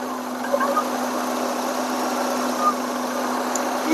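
Maruti Eeco van engine idling with its AC clutch not engaging, a steady low hum and faint mechanical whir held evenly for a few seconds, close by and without talking.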